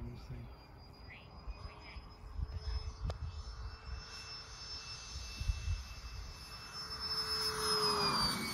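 Faint, distant whine of an RC jet airplane's XFly ducted fans passing overhead, with tonal pitch shifts and a rising rush toward the end, amid low outdoor background noise.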